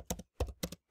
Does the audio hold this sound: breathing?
no